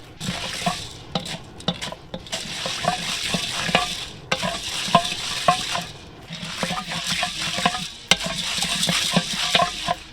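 Corn kernels in a cup and a half of corn oil are stirred in a pot for vanilla popcorn, with close, loud bursts of sizzling and frying under repeated scraping strokes of the stir, and no talk.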